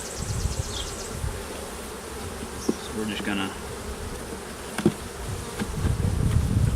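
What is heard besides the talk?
honeybees buzzing around open hive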